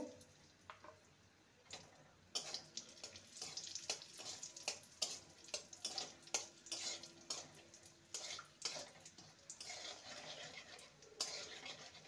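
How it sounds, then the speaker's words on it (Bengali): Cashews and raisins frying in hot oil in a pan, a soft, steady sizzle broken by irregular crackles and stirring scrapes, close up and fairly quiet. "কাজু কিশমিশ ভেজে নেব।"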